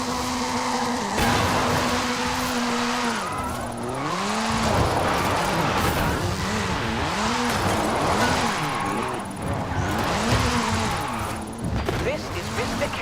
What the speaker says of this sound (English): This is Mr. Kenneth Block's Hooligan Gymkhana 10 Ford Focus RS RX. 2-litre, turbocharged, front-mounted engine and all-wheel drive.